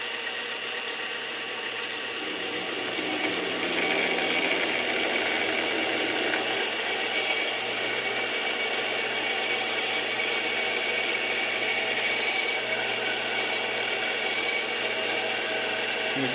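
A Dremel drill press bores through a thin wall, a steady high-pitched motor whine with a low hum beneath that grows slightly louder after a few seconds and then holds constant, with no talk over it.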